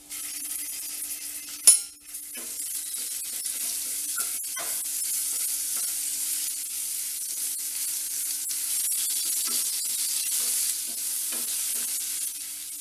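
Baby potatoes roasting with chilli powder, asafoetida, turmeric, dry mango powder and ginger-garlic paste in a pan, giving a steady close sizzle and hiss with scattered scraping stirs and one sharp clank near the start.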